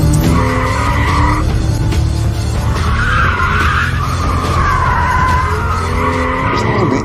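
Car drifting with tires skidding, a loud sustained squeal that rises and bends in pitch over a steady engine roar, close and continuous throughout.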